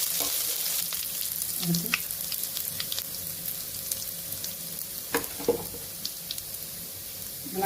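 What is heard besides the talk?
egg frying in oil in a pan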